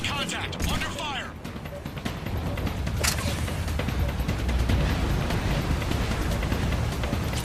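Gunfire rattles through a Mass Effect 3 firefight, a dense and steady wash of shots and battle noise that runs the whole time without a clear break.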